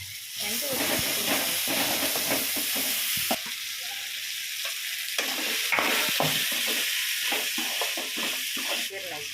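Tomato and paste being stirred in a hot frying pan for a vegetable egg curry: steady sizzling and hissing with repeated scraping strokes of a spoon against the pan, close and fairly quiet.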